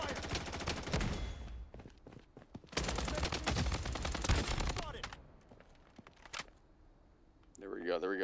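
Bursts of rapid gunfire crackle through a zombie battle royale video game, heavy volleys breaking off into short pauses before another burst, with players talking over the action.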